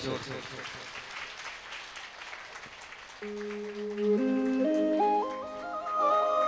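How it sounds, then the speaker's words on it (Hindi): A congregation claps at a Thursday church meeting in Bihar, with voices mixed in for about three seconds. Clear keyboard notes then take over and climb in steps, carrying through to the end. "ताली बजा दो यीशु के लिए जोर से।"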